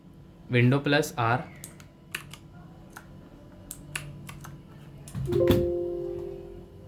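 A computer keyboard is tapped in short, sharp clicks spread across several seconds, entering the Windows+R shortcut on a Windows 10 PC, with a few bursts of speech at the start and near the end.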